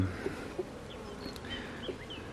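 Honeybees buzzing around a hive frame holding brood and pollen, a steady close hum with individual bees zipping past now and then, no speech.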